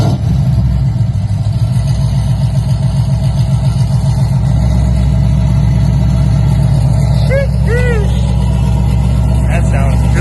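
A freshly LS1 V8-swapped Nissan 240SX S13 with a muffler fitted idles loud and close on its first start, a heavy rumbling throb that steadies after a few seconds, with voices talking over it.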